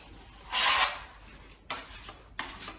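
A metal blade smooths plaster filler across a damaged wall in three close, breathy scraping strokes, the first long and the next two short, with no voices.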